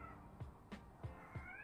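Cats yowling outdoors at night, several short drawn-out cries spaced in an uneven rhythm, faint and distant against a quiet background hum.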